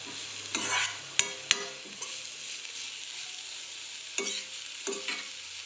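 Turmeric is stirred into radish frying in a pan, with a soft continuous sizzle. Several sharp spoon knocks and scraping strokes come in bursts, close and clear.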